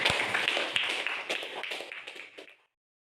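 A small group claps hands after a Quran lesson, brisk scattered clapping nearby that thins out and stops abruptly near the end.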